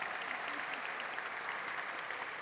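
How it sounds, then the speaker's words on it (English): Audience applause at an awards ceremony, a dense, steady wash of many hands clapping together throughout, fairly loud and sustained with no speech over it. "Yes, please, a round of applause."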